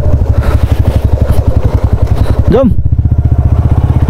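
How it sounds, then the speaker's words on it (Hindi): A Bajaj Dominar motorcycle being ridden, its engine throbbing in a loud, steady rhythmic pulse close to the microphone, while someone talks over it. "और दिस भाई डोमिनार राइडिंग डोमिनार"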